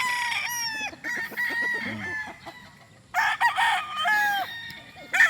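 A rooster crowing and clucking close by, two bursts of loud harsh calls with short clucks between them, with no talk.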